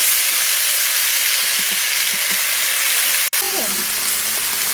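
Onion frying in a pan in a village kitchen, giving a steady loud sizzle and hiss throughout, broken by a brief sharp knock near the end.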